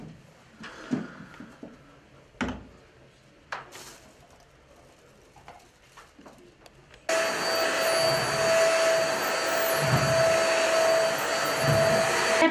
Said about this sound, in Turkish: Kolaylığı var, bak süpürük yapıyoruz,